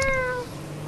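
A cat meow plays through computer speakers, a single loud, short, tonal mew that fades within half a second, leaving low background hum.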